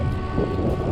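A strong headwind buffets a cyclist on a long road ride, a close, continuous low rumble of wind across the microphone with no other clear sounds.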